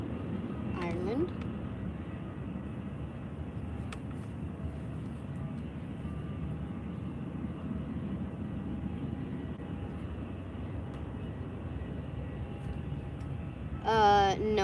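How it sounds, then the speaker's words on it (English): Aer Lingus Airbus A330 departing Faro Airport for Dublin, a faint, steady distant engine rumble persisting under light background noise, with a brief voice near the start and the end. "So that was the A330 Aer Lingus off to Dublin in Ireland."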